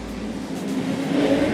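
Speedcars race on a dirt speedway oval at Maryborough, the engines a steady loud roar with a slight rise in pitch as the pack accelerates.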